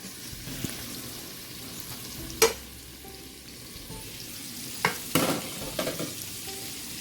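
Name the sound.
yams sauteing and being stirred in a pan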